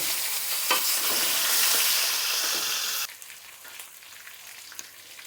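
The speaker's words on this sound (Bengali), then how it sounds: "মুরগিটা ভাজা ভাজা করে ফেলেছি।" Chicken pieces marinated with turmeric and salt frying in hot oil in a village kitchen, a steady loud broadband sizzle with occasional stirring scrapes, dropping to a quieter crackle partway through.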